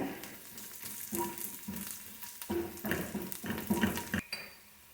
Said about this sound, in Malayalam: വെളുത്തുള്ളി നന്നായിട്ടൊന്ന് ഫ്രൈ ചെയ്തെടുക്കണം